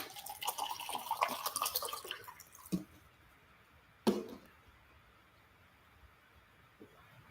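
Water pours into a glass in a short run of splashing and trickling, followed by a couple of soft clinks and faint drips in a quiet room.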